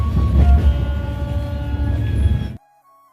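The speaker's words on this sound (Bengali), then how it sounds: "তো এবার আমাদের ট্রেনটা ঢুকছে বড়ি" A train pulling into Puri station rumbles steadily with low mechanical noise and faint tonal squeals, then the sound cuts off abruptly near the end.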